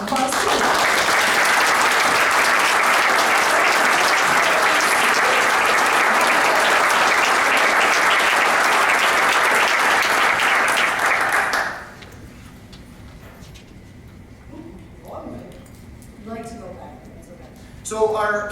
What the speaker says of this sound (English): so we can give you a round of applause too